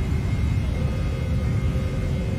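Airliner engines climbing out just after takeoff in a flight simulator game, a steady, moderately loud broadband roar and rumble with no breaks or voices.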